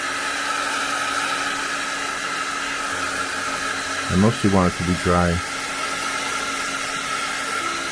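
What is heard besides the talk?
Pro Heater hair dryer drying watercolor paint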